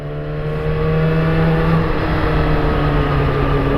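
Steady road traffic rumbles on without a break near a motorcycle maintenance spot, a continuous roar of passing cars that holds fairly loud with no voice over it.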